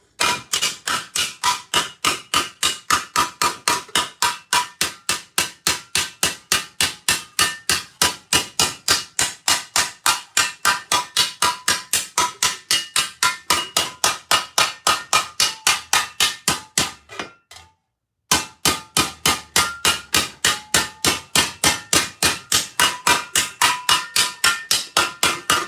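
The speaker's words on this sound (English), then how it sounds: "I'm using a tiny hammer and it doesn't feel like it's moving it too much, but it is my only small planishing hammer" A small planishing hammer strikes 14 gauge sheet metal armour in rapid, even blows, sharp metallic taps close up, continuing in a long steady run with one brief pause near the end.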